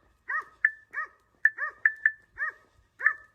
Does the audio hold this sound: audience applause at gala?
no